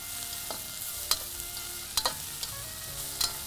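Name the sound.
spices frying in hot oil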